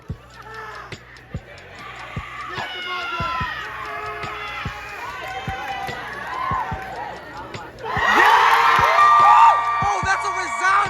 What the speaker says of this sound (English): Oh, that's a resounding applause.